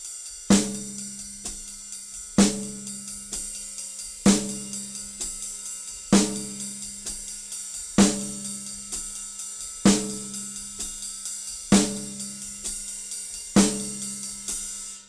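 Drum kit groove with 16th notes on the ride, snare on 2 and 4 and left-foot quarter notes, played steadily for about fifteen seconds with regular strong accents, close and clear with no talking.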